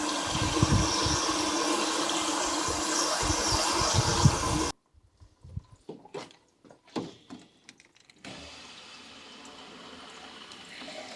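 Water rushes loudly through the coolant jackets of a Princess 2200 HLS car engine during a coolant flush, then cuts off to sporadic splashes and drips before a steadier, quieter trickle resumes.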